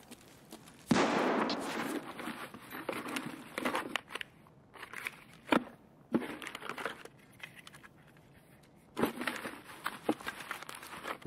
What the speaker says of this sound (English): A bunch of shooting going on.